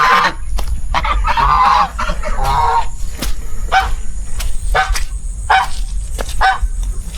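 Farm ducks on a smallholding in North Kalimantan call loudly and close by in repeated raucous honking bursts, layered over each other and followed by sharp clicks and knocks.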